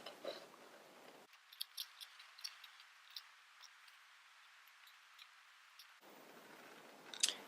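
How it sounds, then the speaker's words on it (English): Scissors trim the white background off paper, a series of faint, close snips and clicks in an irregular rhythm against a quiet room, no talk. "I will just cut off the background, that big white floppy part that's always in the way."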